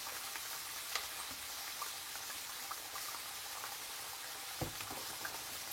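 Potato chips frying in oil in a pan for chipsi mayai with sausage, giving a faint, steady crackling hiss with occasional small pops and no voices.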